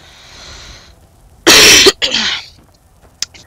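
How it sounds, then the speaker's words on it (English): A single loud, close cough bursts out, followed by a rougher throat-clearing hack, both standing alone against quiet background sound from a game. "Freaking coughing again."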